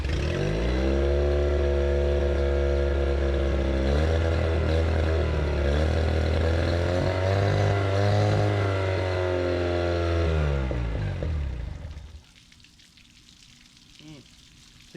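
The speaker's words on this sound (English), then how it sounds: "So it's running with the choke on." An old, long-forgotten outboard motor runs with the choke on, a steady, loud buzzing drone with slight pitch shifts, then cuts off abruptly and leaves near silence.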